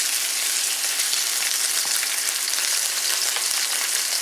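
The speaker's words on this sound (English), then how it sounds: "So I'm going to go on and put my beef in. You can hear it." Beef sizzles loudly and steadily in a hot wok on an induction cooktop, a dense crackling hiss with no voices over it.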